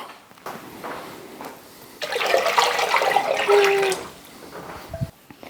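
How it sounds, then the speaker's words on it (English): Hot water runs from a kitchen sink tap to cover jars of salsa for canning. It starts as a loud, steady rush that lasts about two seconds, then eases into a quieter trickle with light clatter close by, and no one speaks. "We're going to run some hot water from the sink"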